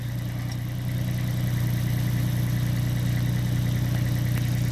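A 2012 Ditch Witch JT5 directional drill runs with a steady, loud, low engine drone that holds an even pitch and grows slightly stronger after the first second, with no pauses.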